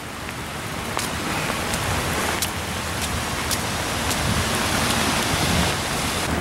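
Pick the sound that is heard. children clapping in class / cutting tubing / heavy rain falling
heavy rain falling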